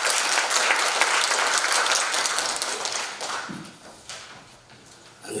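An audience at a seminar bursts into steady, close applause to welcome a speaker, the clapping holding strong for a few seconds before tapering off into scattered claps.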